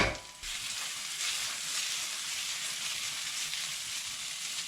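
Garlic and fish sizzling hard in a stir-fry pan, a loud, dense, continuous frying hiss that bursts in as they hit the hot oil and holds steady.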